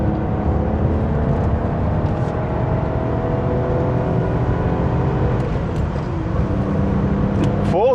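A BMW E31 850i with a V12 engine runs at full throttle toward 6,000 RPM, a loud, steady, dense engine roar heard from inside the car that holds constant throughout.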